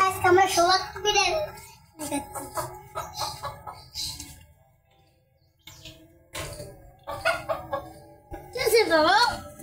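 Caged fancy chickens, including a bantam hen, cluck and chirp in short bursts while a child and another person talk over them; the birds sit close and mostly under the voices, with a brief quiet gap midway.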